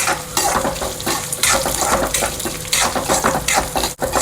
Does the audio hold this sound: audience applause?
no